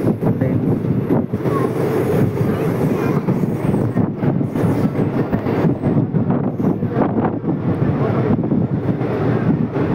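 Tirupati Express running through Perambur station without stopping, a loud, continuous rumble and rush of the passing train heavily buffeted by wind noise for the whole stretch, with no talk.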